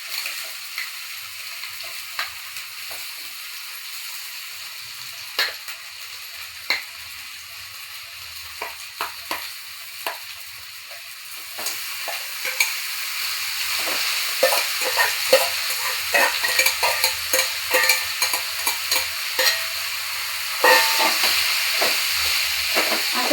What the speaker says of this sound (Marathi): आता याला चांगलं ते तुपामध्ये चांगलं परतून घ्यायचं, मस्त छान असं मऊसूत होईपर्यंत